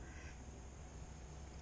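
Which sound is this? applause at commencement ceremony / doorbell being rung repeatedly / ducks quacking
ducks quacking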